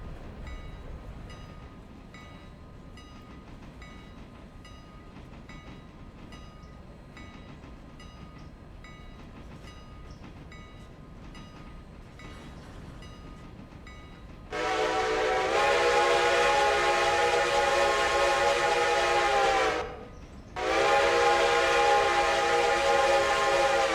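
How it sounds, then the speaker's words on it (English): A passenger train in the video game Railroader rolls along steadily on a low rumble, then sounds a loud sustained whistle for several seconds, pauses briefly, and whistles again. "The first end-to-end run of a passenger train on the network completed."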